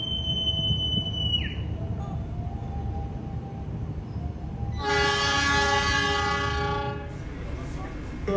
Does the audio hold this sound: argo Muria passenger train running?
yes